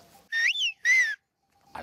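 A Greek shepherd on the island of Euboea whistles the word for French in whistled speech, two clear high pitched whistled syllables with a sliding rise, close and loud, followed by a brief sound at the end.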